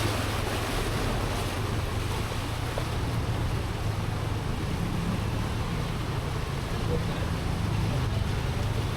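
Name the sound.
flood water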